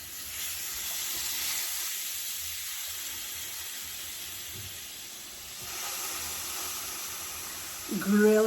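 Chicken sizzling on a grill: steady, close hissing sizzle running throughout, swelling slightly midway, with a voice breaking in at the very end.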